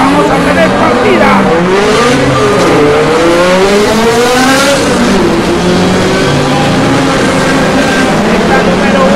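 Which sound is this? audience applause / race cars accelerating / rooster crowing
race cars accelerating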